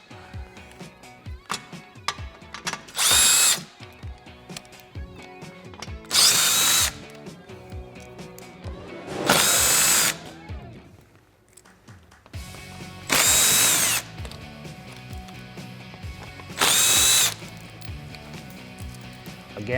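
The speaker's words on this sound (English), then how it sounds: "I'm going to take my 7mm on my electric impact gun and start removing screws." An electric impact gun with a 7mm socket removes screws from the front bumper of a 2018-2022 Mustang. It fires about five loud, close bursts of roughly a second each, separated by quieter handling noises.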